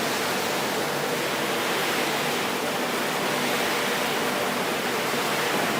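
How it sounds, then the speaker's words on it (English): A cashew nut cooker running on a factory floor gives a steady, dense broadband roar with no breaks, loud and continuous throughout, with no voices present. "This is our cooker."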